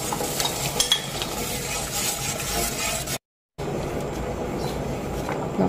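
Meatball dipping sauce being stirred in a pot of boiling water over high heat, a continuous bubbling sizzle with soft scraping of the spoon, briefly cut to silence midway before resuming.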